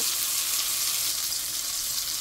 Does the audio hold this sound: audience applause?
no